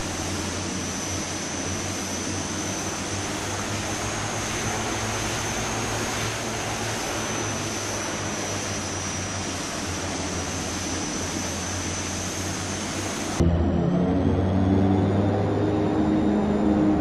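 A DHC-6 Twin Otter taxiing in a flight simulator game produces a loud, continuous turboprop drone with a high steady whine, shifting in tone toward the end.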